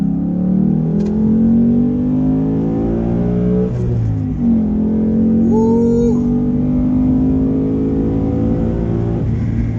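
Ford Mustang GT 5-liter V8 with a six-speed manual revving hard, loud rising engine tones climbing repeatedly through the gears with short dips between pulls, heard up close and continuous.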